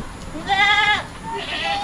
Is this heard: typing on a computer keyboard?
no